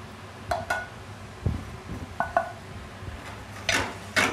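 Vegetables with lemon zest tumble into a cocotte pot, giving a few scattered clinks and taps against metal, close and fairly crisp, with short gaps between the drops.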